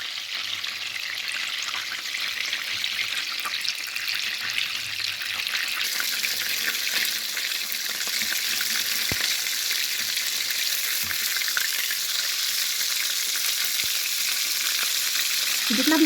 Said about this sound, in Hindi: अब ये ऑयल काफ़ी गर्म है, जब इसमें हम स्टेक डालेंगे